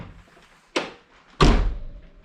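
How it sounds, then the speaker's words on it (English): Autozam AZ-1 gullwing car door thumps open in two solid knocks, the second louder and fuller with a low body resonance, close by in a quiet garage. "let's open this door."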